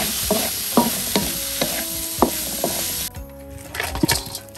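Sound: stir-frying straw mushrooms with basa fish

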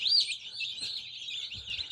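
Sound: newly hatched chicks chirping

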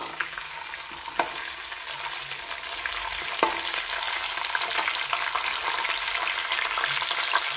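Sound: spices frying in hot ghee

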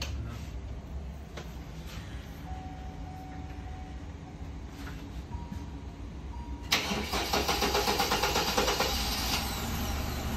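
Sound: 2018 Kia Rio car engine starting and idling

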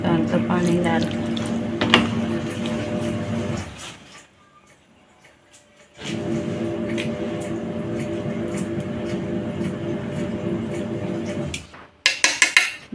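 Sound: pouring water into fish batter

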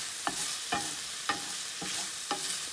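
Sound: stirring garlic sizzling in a pan

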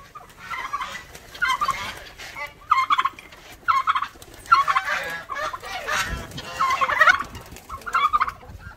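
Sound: farm turkeys gobbling among poultry waiting to be fed

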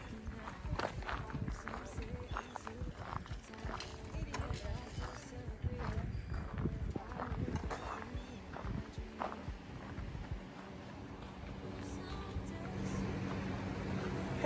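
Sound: horses in a stable barn

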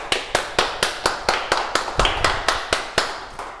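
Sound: applause

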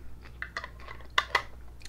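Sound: chewing a jalapeno pepper ring from organic jelly

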